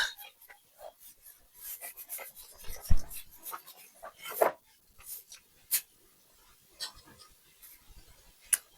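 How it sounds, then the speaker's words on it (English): Eraser or cloth rubbing across a board during a math lesson, a series of short scratchy swipes of varying loudness, fairly close, with no talking. "permit me to erase this side"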